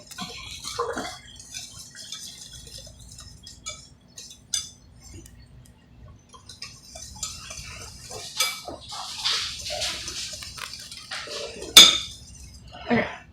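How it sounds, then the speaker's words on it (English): Salt and sugar are whisked in a bowl for challah dough, giving sparse light clinks and taps that grow busier toward the end, with faint room sound in between. "And you're going to whisk that up."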